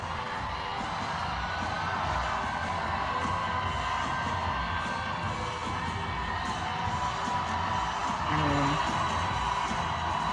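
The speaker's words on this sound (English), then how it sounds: "I just want to play this clip of Abigail Spanberger walking out to a very loud crowd tonight" A very loud crowd cheers steadily as Abigail Spanberger walks out on election night, a dense continuous roar with scattered whoops and a brief swell near the end.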